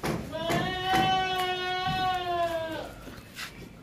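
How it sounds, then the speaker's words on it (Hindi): A teddy goat at a sacrificial livestock market bleats in one long, wavering, nasal call lasting about two and a half seconds, close and loud over background voices and crowd noise. "ये देखें गुलाबी कान है, बहुत ज़बरदस्त टेडी बकरा"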